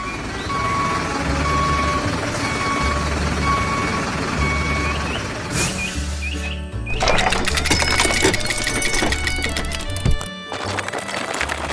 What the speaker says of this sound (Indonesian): Truk ini sedang bergerak dengan tenang dan nyaman.